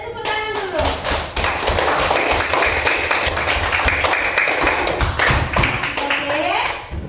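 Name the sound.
group of people clapping hands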